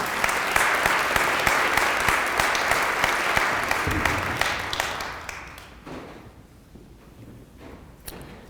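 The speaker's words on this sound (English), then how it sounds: "Can we have a round of applause for Kyle?" Steady audience applause with dense clapping that continues for several seconds, then gradually thins and fades as the crowd quiets.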